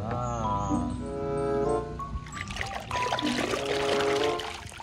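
Water pouring and trickling while toy dinosaurs such as a Carnotaurus are washed, a steady splashing stream that runs throughout, with musical tones playing alongside.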